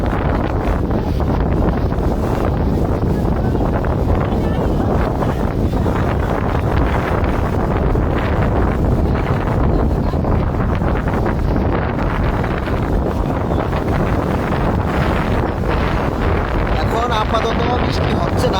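Strong cyclone wind lashing the Bhola coast, a loud constant roar and buffeting across the microphone throughout, with no break.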